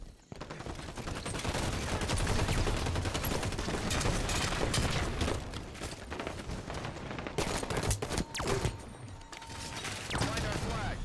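In Halo 5 capture-the-flag multiplayer, rapid automatic gunfire and bursts of shots crackle almost nonstop at moderate loudness, with short announcer-style voice lines now and then.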